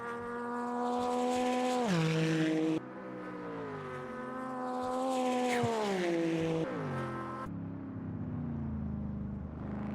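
A race car engine from Automobilista 2, an H-pattern racing sim, drones loudly and continuously with harmonic revving, dropping sharply on downshifts at two points, then settling into a lower rumble.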